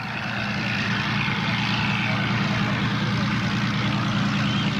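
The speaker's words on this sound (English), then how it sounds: "bringing the P-40 back on the ground" A P-40 warbird at an airshow comes in to land, its propeller engine a steady, loud droning roar with no pauses.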